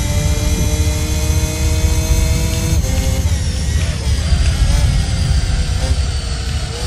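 A Gran Turismo 3 race car engine roars at full throttle, a dense, loud, steady drone with a pitch sweep partway through, no talk over it.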